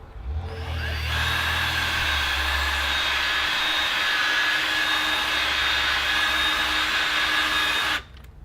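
A headlight polishing tool on its slow speed setting spins up after a brief quieter start into a steady, loud whirring hum that holds evenly and then cuts off near the end.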